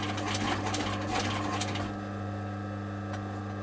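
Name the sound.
stitching a leather pouch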